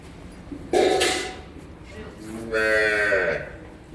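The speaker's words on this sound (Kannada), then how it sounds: "ನೋಡ್ರಿ ಇವೆಲ್ಲ ಕರುಗಳು" Two loud moos from calves close by, one short and one longer, with a quiet voice in the background.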